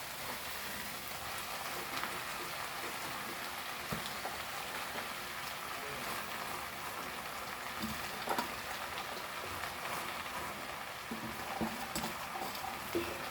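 Potatoes cooking tender in a pan for Goan bhaji as leafy vegetables go in, giving a steady soft sizzle and stir under a wash of frying noise with small irregular rustles, fairly close and even throughout.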